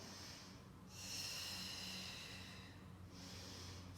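A person breathes in and out during a Pilates session, with one long, airy exhale-like rush near the middle of the clip between softer breaths. The breaths sound fairly close over a quiet low hum, with no talking.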